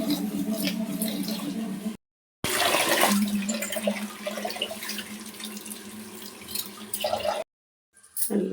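Rice, a kilo and a half, being washed in water in a kitchen for chicken biryani: steady running and sloshing water, loud and close, broken by two brief silent cuts.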